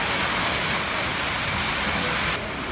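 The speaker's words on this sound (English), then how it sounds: "It's raining." Steady rain pours down at the Tioga County Fair, a dense, loud hiss of drops on surfaces that continues evenly with no voices over it.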